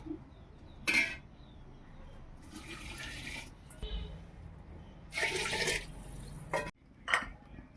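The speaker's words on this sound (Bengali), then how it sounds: "সবজিগুলো ভাজা হয়ে গেছে এবার আমি জল দিয়ে দেবো" Water is poured into a pan of fried vegetables for a rice dish, giving several brief splashy hissing bursts separated by quieter gaps, with light clatter of the pan.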